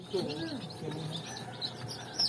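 Newly hatched chicks peep faintly in short high chirps scattered over a noisy background, close by but quiet, with a muffled voice and handling sounds around them.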